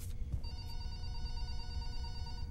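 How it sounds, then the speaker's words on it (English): Telephone in a video game house ringing with a bright electronic trill, a continuous ring lasting about two seconds, faint and alone with no talking. "why would that phone be ringing?"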